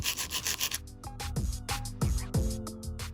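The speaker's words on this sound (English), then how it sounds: "So we're gonna begin filing." A nail file shapes a tapered square nail with close, rhythmic back-and-forth rasping strokes, around a dozen short scrapes in quick succession, crisp and clear with no talking.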